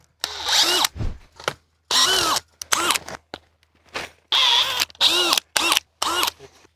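A cordless drill twisting farm fence wire whirs in a series of short bursts, some briefly changing pitch, separated by quiet gaps; loud and close.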